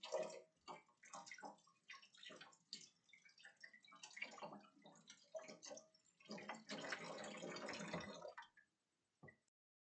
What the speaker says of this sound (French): Un petit coup de rinçage